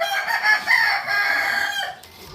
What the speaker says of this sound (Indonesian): ini ayam Indio Gigante